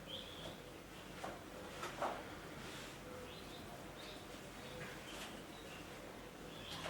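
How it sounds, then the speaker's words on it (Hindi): Birds calling in trees outside a room where a maths lecture is recorded: faint, scattered short chirps and cooing calls over quiet background hiss, no one talking. "ये बर्ड्स की आवाजें हैं।"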